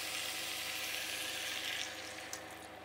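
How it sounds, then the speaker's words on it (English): Pork bone broth for gamjatang, with potatoes and seasoning paste, boils in a pot with a steady, dense bubbling hiss that eases off slightly toward the end, with no talking. "When it starts to boil like this"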